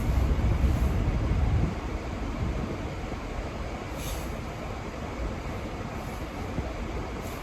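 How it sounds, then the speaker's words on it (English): A car engine warming up on a snowy day, a steady low rumbling drone heard from inside, slightly louder at first, then settling into an even idle hum. "if y'all hear noise, I'm warming up my car"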